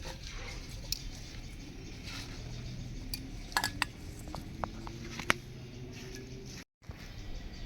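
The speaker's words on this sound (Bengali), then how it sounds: "গুগুলি বাছা হয়ে গেল, এবার ভালো করে ধুয়ে নেব।" Freshwater snails (guguli) are washed in a metal pot, with scattered clinks, rattles and light water patter over a quiet background and a brief gap near the end.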